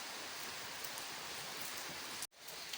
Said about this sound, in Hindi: बारिश तो चुकने का नाम ही नहीं ले रही है ना